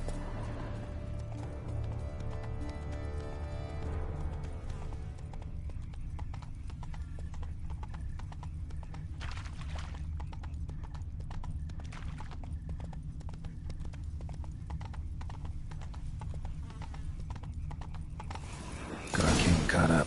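Roach the horse from a video game galloping, with rapid, steady hoofbeats running throughout under a low music bed, a brief whinny early on, and a louder burst of action noise at the very end.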